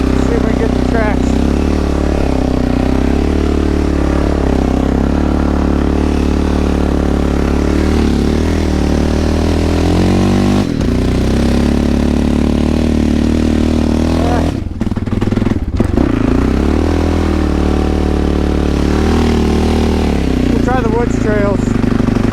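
Honda ATVs ride through deep snow, engines droning loud and steady close by with rises and falls as throttle changes, the run punctuated by a brief drop, while people talk over the motor noise.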